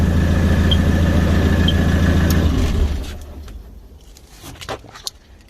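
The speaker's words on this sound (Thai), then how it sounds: "เป็นเครื่องยนต์ดีเซล สี่สูบแบตเตอรี่สองลูกนะครับ" A Morooka MK70 four-cylinder diesel tractor engine idles with a steady low rumble for about three seconds, then cuts out, leaving quieter clicks and light rattling.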